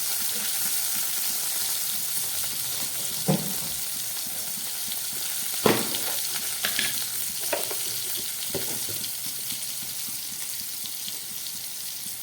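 Spice paste with cumin and tomato frying in a pan for potato dum, a soft continuous sizzle with occasional stirring scrapes and clinks, close but gentle.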